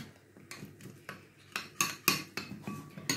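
A spoon scrapes and clinks against a bowl of spices including paprika in a quick series of sharp taps, close and clear with no talking.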